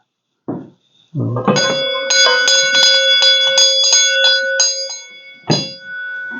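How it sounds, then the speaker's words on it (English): A horse's bell rings out clearly several times, its metallic tones sustaining and ringing on between strikes, close by and loud. "the bell will give her away"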